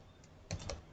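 A few quick, soft keystrokes on a computer keyboard, faint and close, clustered in a brief burst over low background hiss.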